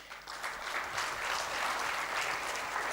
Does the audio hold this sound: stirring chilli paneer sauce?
no